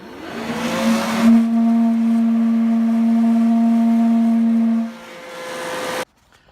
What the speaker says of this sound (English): if you take a leaf blower and blow it across the top of the hole, it's like blowing on the top of a soda bottle that is empty. It makes a very loud hooting noise